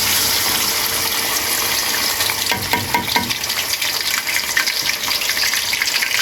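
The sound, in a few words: ginger garlic paste frying in hot oil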